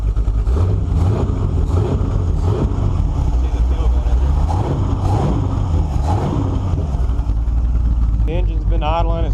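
A 1948 Chevy engine fitted with a Quick Fuel 750 carburetor, warmed up, runs loud and close with a steady low rumble and a few rises in revs. Someone talks over it throughout.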